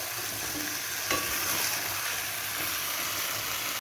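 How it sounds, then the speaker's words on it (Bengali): Chicken curry with potatoes sizzles steadily in a pan as it is stirred and fried, a continuous close hiss with faint scraping and no voices. "দিয়ে আলুটা দিয়ে একটু এরকমভাবে কষিয়ে নেব।"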